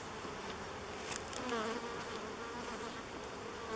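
Honeybees hum around an opened hive being worked with smoke, a continuous, fairly quiet drone with a couple of brief closer fly-bys and one swelling pass midway.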